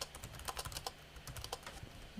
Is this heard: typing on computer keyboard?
yes